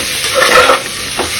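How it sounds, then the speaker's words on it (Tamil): Tomato stirred into sorakkai dal curry in a hot pan gives a steady, close, loud sizzle with scraping stir sounds for a second and a half before cutting off. "டொமேட்டோ ஆட் பண்ணியாச்சு. மிக்ஸ் பண்ணி கொடுத்துடலாம்."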